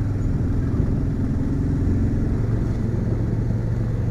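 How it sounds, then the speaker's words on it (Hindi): A vehicle's engine hums steadily while climbing a steep mountain road at Mussoorie, a continuous mid-range drone with rumble and no voices. "वाओ देख रहे हो टॉप तक गाड़ी चल रही है भाई"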